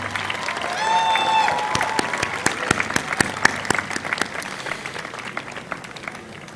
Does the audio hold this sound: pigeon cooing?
no